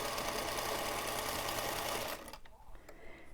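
A domestic sewing machine runs steadily while piecing quilt rows, giving a dense, even whirring stitch for about two seconds before stopping. Quieter handling noises follow.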